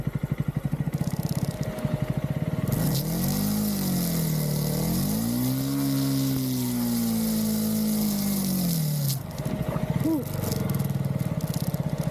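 A motorcycle near a roadside spot at Nambi waterfalls in Chhattisgarh, its engine note rising and holding steady as it approaches and passes close by, then dropping away, over constant outdoor background noise.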